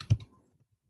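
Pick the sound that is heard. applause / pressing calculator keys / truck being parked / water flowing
pressing calculator keys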